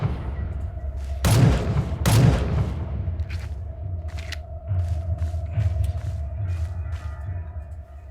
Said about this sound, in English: Hopscotch just shot a missile at it